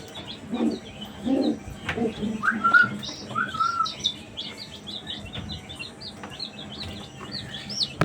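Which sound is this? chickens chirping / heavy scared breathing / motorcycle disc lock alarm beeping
chickens chirping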